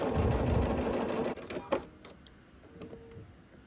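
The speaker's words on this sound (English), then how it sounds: "I just turn it back to right where I left off at, and I continue sewing" A sewing machine runs close up, stitching a quarter-inch seam on a scrappy sampler quilt block. It gives a fast, steady whir for over a second, then stops, followed by a few clicks and faint handling sounds.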